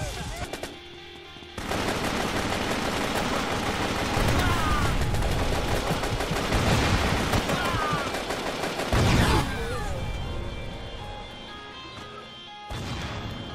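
Rapid weapon fire in the video game Metal Assault rattles in dense, sustained bursts with crashing impacts, loud and continuous for most of the stretch before easing off near the end.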